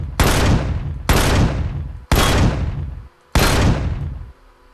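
Four heavy sniper rifle shots from the video game Empyrion fire about one second apart, each a loud, close blast with a long decaying tail, with no speech.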